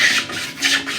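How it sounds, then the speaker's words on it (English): A block plane shaves a wooden chair spindle held on a planing sled, giving two close, rasping strokes with a brief lull between them. "the block plane can ride on it at a skewed angle on the spindle"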